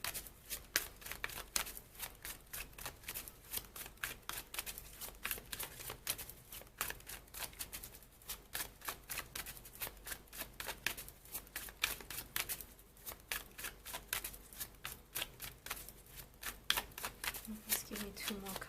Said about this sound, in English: let me pull another 2 cards for you